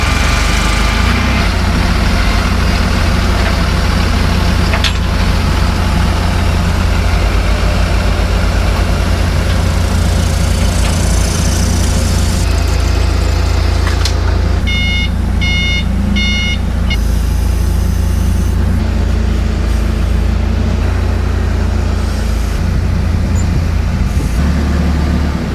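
A 6,000 pound forklift engine runs loud and steady at close range, with a low continuous drone and a brief beeping near the middle.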